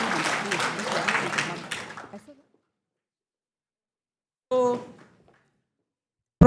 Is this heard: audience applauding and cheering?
yes